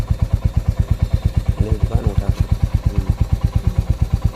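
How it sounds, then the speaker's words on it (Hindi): A Royal Enfield Hunter 350 motorcycle engine idles just after starting, giving a close, steady, even thumping beat with a light mechanical clatter and someone talking briefly over it. "तब ये बाइक जो है अभी आपका स्टार्ट हो चुका है।"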